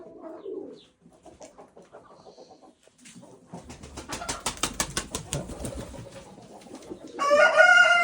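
Poultry in an evening coop, including white birds, coo and cluck in a busy overlapping chorus, building in loudness, with a loud rooster crow breaking in near the end; no voices.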